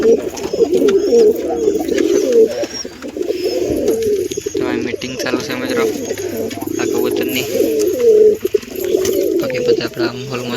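Several pigeons coo repeatedly close by, a soft, rolling chorus that continues throughout with a voice speaking faintly underneath.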